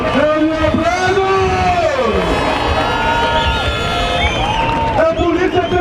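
A large crowd at a street demonstration cheers and shouts loudly for a Federal Police delegate from São Paulo, with whoops and voices rising and falling over continuous babble throughout.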